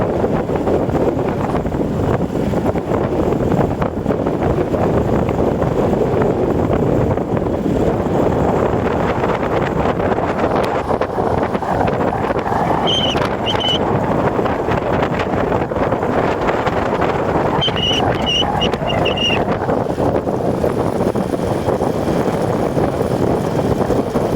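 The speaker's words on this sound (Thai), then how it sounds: "ขี่รถ ชมบรรยากาศนะครับ เสียงลมอาจจะแรงไปหน่อยนะครับ" Strong, steady wind roars across the microphone while riding a vehicle past the Huai Sala reservoir in Phu Sing, Sisaket, a loud continuous buffeting that covers everything else for the whole stretch.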